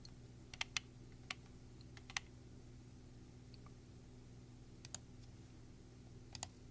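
Computer keys are pressed at a live-stream desk setup: scattered, faint clicks and taps, sometimes in quick pairs, over a steady low hum.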